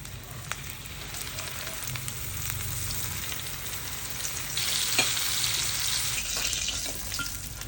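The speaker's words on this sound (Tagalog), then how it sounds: "So ngayon nagpapain na ako ng mantika dito sa kawali. Magpa-fry na tayo." Coated milkfish (bangus) frying in hot oil in a pan, a continuous crackling sizzle that holds steady and grows a bit louder and brighter midway, with occasional sharp pops.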